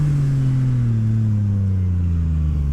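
A Yamaha MT-09 with a full Akrapovic exhaust roars loud and close under hard acceleration, its steady deep engine note sliding gradually lower for about three seconds.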